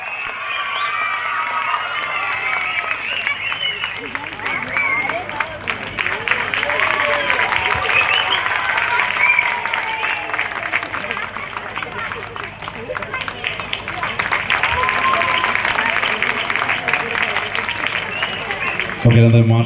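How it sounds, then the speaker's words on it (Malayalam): A crowd at a Malayalam folk song event applauds to honour members of a local green task force, a dense, sustained wash of clapping and cheering that carries on steadily for the whole stretch. "നിറഞ്ഞ കയ്യടിയോടുകൂടി നമുക്കിവരെ ആദരിക്കാം"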